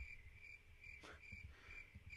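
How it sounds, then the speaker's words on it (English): Crickets chirp in a steady, fairly quiet pulsing trill, played as a sound-effect bumper during a podcast with a low rumble underneath and no talking. "Crickets."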